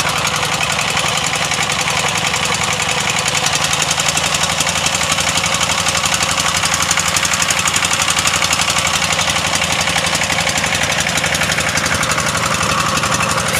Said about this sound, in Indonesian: Mesin menggunakan mesin diesel pakai kiongan ini guys, dan gearbox.